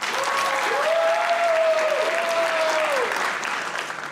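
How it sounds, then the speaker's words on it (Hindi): Steady applause from a television comedy show's studio audience, continuous clapping throughout at an even loudness with a sustained tone running through the middle. "जिनका ख्याल है कि नीलम से बुरा कोई नहीं हो सकता, वो तालियां बजाइए"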